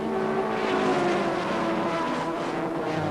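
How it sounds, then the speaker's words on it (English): A Kawasaki racing motorcycle in the 1988 Seniorstock 600 race roars steadily past on the track, a loud continuous engine drone with shifting pitch throughout. "So Roger Hurst has taken the Kawasaki into third place"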